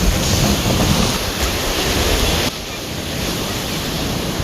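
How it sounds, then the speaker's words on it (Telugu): Strong ocean waves breaking at Marina Beach in Chennai, a loud continuous wash of surf mixed with wind buffeting the microphone, no speech. "ఇక్కడ అలలు మస్తు వస్తాయి డేంజర్గా"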